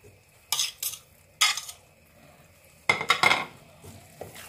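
Scallops are stirred in a pan in short bursts of scraping and shuffling, three or four separate strokes with quiet gaps and a faint sizzle between them.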